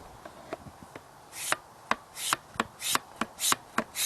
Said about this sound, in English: start pumping the handle, and let's see if oil starts coming out